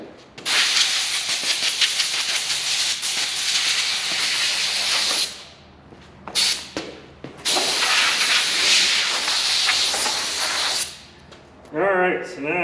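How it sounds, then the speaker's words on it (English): Compressed air hisses loudly and close while blowing dust off the headliner of a 1984 Pontiac Fiero, in long steady blasts broken by short pauses and quick bursts, with a brief voice at the end. "I think I might get a little light compressed air and just try to blow some of this dust off of this"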